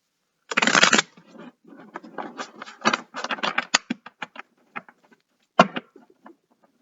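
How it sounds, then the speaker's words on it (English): Tarot cards riffled and shuffled close up, a long initial rush followed by a run of quick crisp flicks and taps, with no voices. "one more shuffle."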